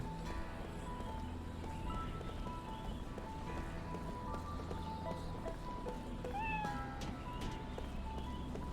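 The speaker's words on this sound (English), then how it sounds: "I heard the meow" Cat meowing in the video game Lost Odyssey, a single brief rising meow standing out over continuous game music and ambient background.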